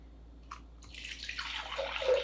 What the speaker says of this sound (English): So first we're gonna put in 2 cups of water.